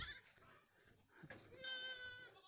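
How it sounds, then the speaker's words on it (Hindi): A goat bleats in a village setting, a wavering cry that starts mid-clip and rises loud and close, with faint background activity before it. "ये बकरी,"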